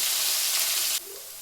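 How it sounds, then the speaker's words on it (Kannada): Urad dal and spices fry in a hot pan with a loud, bright sizzle and hiss that suddenly drops to a softer, steady frying hiss partway through. "ಇದೆಲ್ಲ ಸ್ವಲ್ಪ ಫ್ರೈ ಆಗ್ತಾ ಇದೆ"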